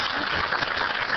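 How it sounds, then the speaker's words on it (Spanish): Applause from the audience at a dialogue panel during a national Alzheimer's conference, a steady wash of clapping at moderate level, with no voices over it. "No sé si aplauden por lo de las orejas."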